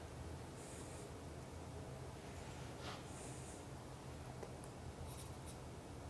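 Pencil scratching across paper during a life drawing session, a soft continuous scraping hiss close up with a few brief strokes standing out, quiet and alone.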